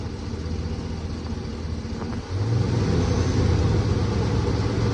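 A Hemi engine idles with a steady low rumble, then revs up around the midpoint and holds at roughly 2,000 rpm, with a louder, fuller drone close by and no talk.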